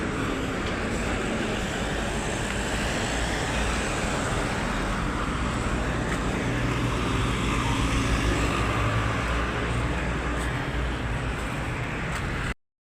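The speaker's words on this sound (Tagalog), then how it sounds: "marami po sasakyan gabi, mabibilis yan" Steady, dense roar of fast-moving road traffic at night, a continuous broadband rush of passing cars and trucks with no gaps, fairly loud and close, and no voices.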